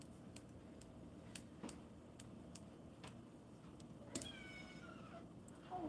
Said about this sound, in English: what was that meow?